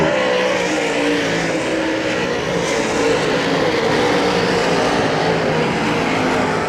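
Race cars roar around Hagerstown Speedway, a dense, continuous engine drone from several cars at once that stays loud and steady throughout.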